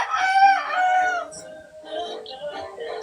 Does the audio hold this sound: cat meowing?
no